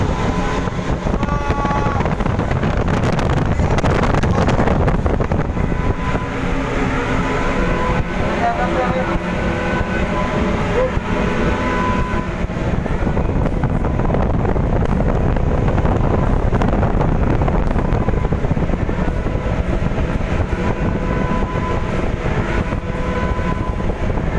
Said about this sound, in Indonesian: Coba masuk ke simulator angin.